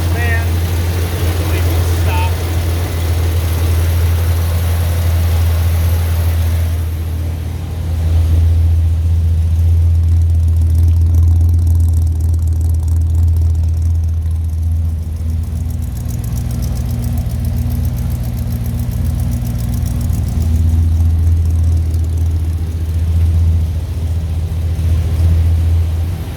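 A 1984 Chevrolet K10 Silverado Limited Edition with a turbo muffler and clutch fan idles on a cold start, a loud, steady low rumbling drone that continues throughout while someone talks over it.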